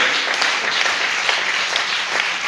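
A church congregation applauding the Lord during a worship service, with steady, dense clapping from many hands throughout and a faint murmur of voices beneath it.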